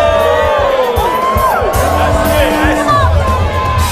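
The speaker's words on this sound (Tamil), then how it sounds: "உங்க எல்லாரோட கரகோஷங்களையும் எழுப்புங்க" A crowd cheers and whoops loudly and continuously, with voices shouting over the noise.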